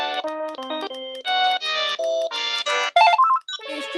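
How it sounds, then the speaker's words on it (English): Standard ringtones of a Panasonic KX-TG K220 cordless phone play as bright electronic melodies, clean stepped tones in short phrases with brief gaps, loud and close. "the standard Panasonic KX-TG K220 ringtones"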